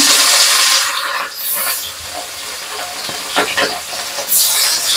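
Katla fish slices are dropped into hot oil in a wok, setting off a loud, dense sizzling hiss that surges at the start and keeps spattering steadily close by.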